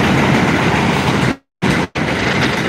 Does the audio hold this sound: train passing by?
yes